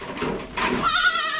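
Boer meat goats in a kidding barn let out a couple of short, close, loud bleats in quick succession.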